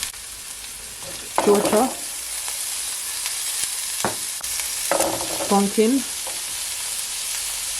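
Onion and carrot sizzle and crackle in oil in a pot, with stirring scrapes and bursts of sizzling that swell near the start and again toward the end, close and steady, with brief speech.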